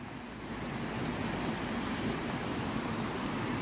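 Gold Brook in Stowe flows beneath a covered bridge, a steady, even rush of running water from start to finish with no talking.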